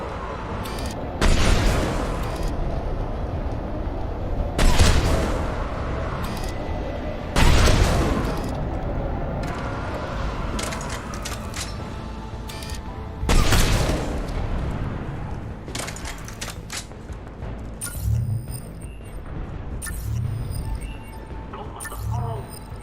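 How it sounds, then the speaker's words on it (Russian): Video-game gunfire rings out as heavy, booming shots and short bursts spread irregularly over several seconds, loud and close, with a player talking throughout. "Выстрел с задержкой идут."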